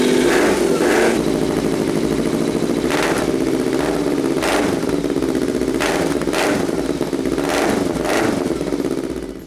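A motorcycle engine runs steadily with a newly installed aftermarket exhaust, its close, loud, even idle holding throughout with a low throbbing pulse and a few brief clattering accents, no talking.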